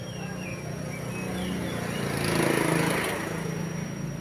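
A Honda Vario 125 scooter engine starts and runs for about two seconds, a faint buzzing hum that swells and fades, heard alone.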